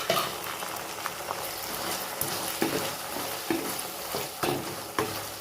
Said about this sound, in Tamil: அப்படியே ஆட் பண்ணிவிட்டு அதை நல்லா வதக்கி விட்டுருங்க.